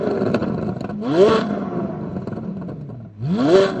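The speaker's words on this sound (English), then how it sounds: "you see the quad-tipped exhaust. I'll put a clip of how it sounds, because it sounds amazing." Revving from the quad-tip exhaust of a 2023 Corvette Z06 prototype: two sharp throttle blips rise and fall over a steady idle, loud and close, with no talk.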